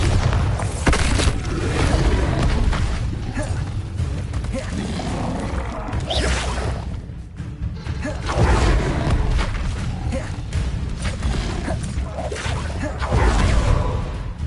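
Explosions from the Bombarda blasting spell in Hogwarts Legacy thud and boom repeatedly through a chaotic duel, with swishing spell casts and crashes, while a voice talks over the fighting.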